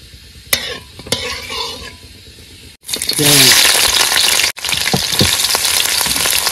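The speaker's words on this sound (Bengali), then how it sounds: "তেল গরম হয়ে গেছে, গোটা গরম মশলা ফোড়ন দিয়ে দিলাম" Whole garam masala dropped into hot oil in a kadai while cooking on a boat in the Sundarbans forest at night: a loud, bursting sizzle that settles into steady crackling, preceded by brief talk.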